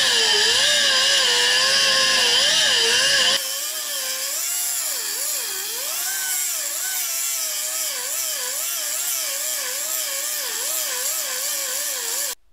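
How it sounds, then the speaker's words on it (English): A 3-inch right angle cutoff tool grinds through rusted muffler bolts on a 1998 Chevrolet Blazer, a loud, close, high whine whose pitch wavers and dips as the disc bites under load, continuing for the whole stretch. "I'm using my 3-inch right angle cutoff tool to remove the bolts"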